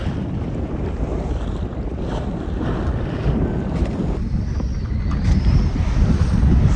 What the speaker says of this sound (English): The wind, still a bit windy, but the seas have died down quite a lot